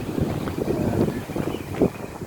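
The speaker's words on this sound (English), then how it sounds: "It's still a bit windy and chilly." Gusty wind outdoors on a sunny, chilly day, buffeting the microphone as a steady low rumble with a few stronger swells, with no voices present.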